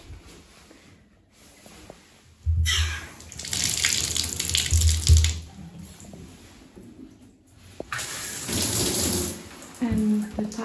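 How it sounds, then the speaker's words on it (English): Bathroom tap and shower running in a rented house's bathroom, water gushing in two loud bursts separated by a quieter stretch, a steady broadband splashing rush close by. "And the tap and shower works as it should."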